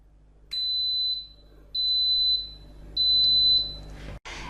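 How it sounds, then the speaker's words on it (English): An Instant Pot pressure cooker sounds three long, even, high electronic beeps at a steady pace. A short clunk follows the last beep, and a faint hum sits underneath. "In a few seconds, Instant Pot will beep"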